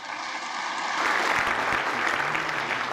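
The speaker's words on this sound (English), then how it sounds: "That's an applause line." Audience applause breaks out at a political speech, rising after a brief quiet start into a steady, broad wash of clapping that holds for the rest of the moment.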